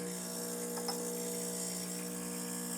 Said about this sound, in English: And let's pull a shot.